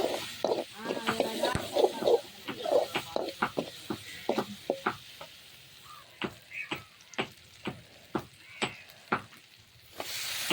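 Tomatoes and turmeric frying in a pan over a wood-fired stove, a soft sizzle beneath regular stirring clinks and scrapes, close, with talk over the first part.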